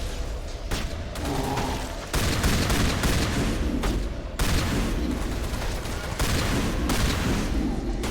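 Shotgun blasts in Mass Effect Legendary Edition, loud repeated booming shots every second or two, with chaotic combat noise continuing in between.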